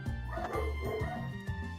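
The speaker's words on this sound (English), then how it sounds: "Oh, the neighbor's dogs are awake." The neighbor's dogs bark and yip in the countryside, a string of short, fairly close barks with a whimpering edge, mixed over a low background hum.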